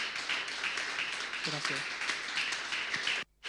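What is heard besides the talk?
audience applauding the pastors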